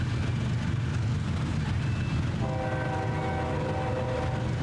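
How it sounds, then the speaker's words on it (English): Trains rumble past each other on the tracks in Trainz 19, a steady rail roar with a sustained tonal hum or horn-like whine joining about halfway through. "Look at that, a train meet."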